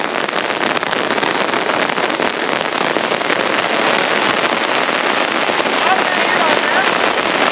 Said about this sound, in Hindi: ये देखिए इतनी तेज बारिश हो रही है